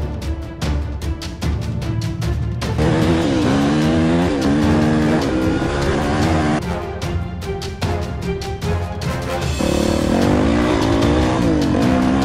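A dirt bike engine under load while riding, loud and close, with repeated revving surges and gear-change dips, the rasping engine note rising and falling continuously throughout.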